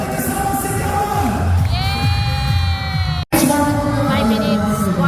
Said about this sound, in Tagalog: Grabe na, palakpakan ay kasama sigawan!